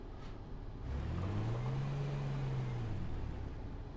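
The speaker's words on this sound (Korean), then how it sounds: "차 소리다." A car engine in the game H1Z1 rises in pitch as it approaches, a faint low hum swelling and holding for a couple of seconds before fading, with no talking.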